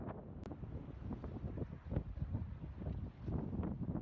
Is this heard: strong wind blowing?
yes